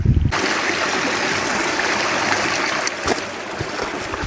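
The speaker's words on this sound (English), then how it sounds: "There's some nice rivulets running through there" Creek water rushes and trickles over rocks at the head of the Winburndale, a close, continuous burbling wash with a few faint knocks near the end.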